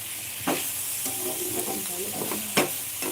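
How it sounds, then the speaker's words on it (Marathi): Garlic and tomato frying in a pan for a matar paneer gravy, a steady sizzle broken by a few sharp scraping stirs of a spoon, close and fairly loud with no voices. "आणि लसूण हे सगळं व्यवस्थित भाजून घ्या"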